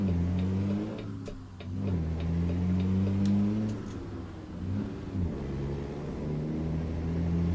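A truck engine in American Truck Simulator drones low and steady, its pitch rising and falling as it revs up and down across the clip, with faint ticking on top.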